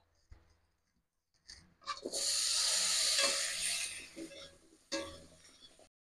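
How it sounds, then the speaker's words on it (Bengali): Potatoes frying in oil in a wok during Bengali home cooking: a loud burst of hissing sizzle swells up, holds steady for a couple of seconds, then tapers off, with one more brief flare near the end. No voices. "এবার আলুগুলো ভেজে নেব।"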